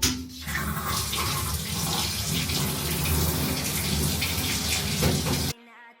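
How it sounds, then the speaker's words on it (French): Shower water runs in a steady, loud hiss for about five seconds, then cuts off abruptly, leaving near silence. "la douche"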